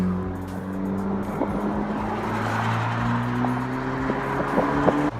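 Steady engine drone and road noise from a 2017 Honda Civic Si with a 1.5 liter turbo engine and front-wheel drive, heard from inside while driving, with faint tire and passing-traffic sounds and no talking.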